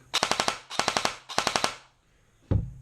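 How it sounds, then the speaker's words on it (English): An ARES Amoeba airsoft rifle fires with no suppressor fitted: three rapid full-auto bursts of about six sharp cracks each, close and loud, then one lone heavier thump after a pause. "without the open-ended suppressor on, which is why it sounds ridiculous, this is what it sounds like"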